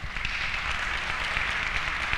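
An audience applauds steadily for a couple of seconds at a mayor's public report in Sucre canton, a dense, even patter of many clapping hands with no voices over it.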